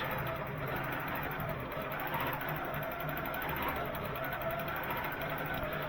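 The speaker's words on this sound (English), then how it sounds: "it takes itself across to the next start point and starts to stitch" Computerized quilting machine stitching steadily, a faint continuous mechanical hum with fine rapid needle chatter, heard at low level without speech.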